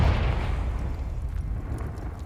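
A Confringo fire-curse spell explodes in Hogwarts Legacy, a loud, deep boom whose heavy low rumble rolls on and slowly fades over a couple of seconds, with no voices.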